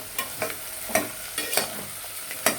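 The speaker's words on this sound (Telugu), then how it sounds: "ఉల్లిపాయలు వేగినాయండి" Onions frying in a pan for mutton curry, with a spatula scraping and stirring in short, evenly spaced strokes over a soft, steady sizzle, close up and with no voices.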